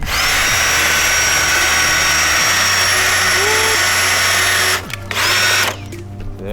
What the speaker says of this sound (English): You hook it up to a drill, battery-powered drill, and you just give the greens a haircut, basically.